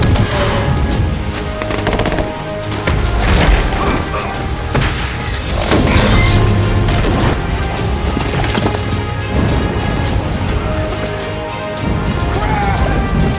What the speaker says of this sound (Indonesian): Baku tembak pun terjadi antara tim GRS dan para pemberontak.